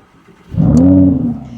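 Lamborghini Huracan Spyder LP610 engine firing up via the start-stop button, a short starter whir followed by a loud, close rev that holds briefly and settles.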